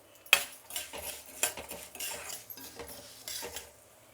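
Cumin, cinnamon, cloves, cardamom and coriander seeds being stirred and dry-roasted in a pan: irregular scraping clinks of a spoon against metal, one sharp knock at the start, with a faint sizzle, close and alone.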